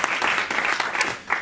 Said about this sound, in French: Alors, ça peut s'applaudir en même temps.